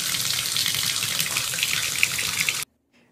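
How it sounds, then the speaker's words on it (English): Hot water running from a shower, a loud, steady hiss and splash that pours continuously for over two seconds, then cuts off abruptly and leaves near silence. "I like to turn on the water, let it run a little bit,"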